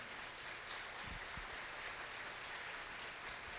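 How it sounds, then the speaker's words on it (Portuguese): A church congregation claps steadily at a distance, a soft even patter of many hands with a couple of duller knocks close by. "obrigado porque você está aplaudindo"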